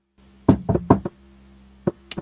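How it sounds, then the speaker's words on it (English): Knuckles rapping on wood in a quick burst of four knocks, then two more a moment later, close and dry over a low steady background hum. "So let's all knock on wood right now."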